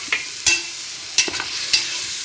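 Garlic-ginger paste is stirred and sautéed in a pan over a wood-fired stove, giving soft sizzling with a few sharp spoon scrapes and clinks at irregular intervals, close by, with no voices.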